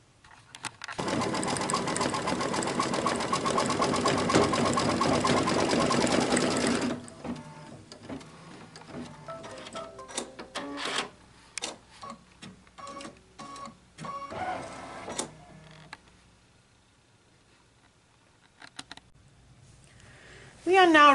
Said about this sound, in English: I will now go color by color until I've stitched out all the details of both of my back panels